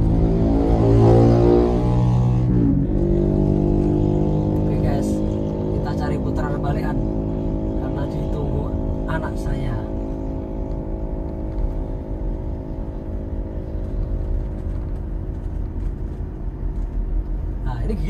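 A 2022 Toyota Innova Reborn 2.4 G MT with manual gearbox and rear-wheel drive climbs a hill, its steady low engine drone filling the cabin throughout while someone talks.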